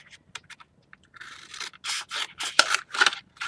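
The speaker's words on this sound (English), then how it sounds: "I am going to cut the other side." Scissors cutting through a stitched box book made from a candy box, close-up: a few small snips followed by longer rasping cuts through cardboard, with no talking.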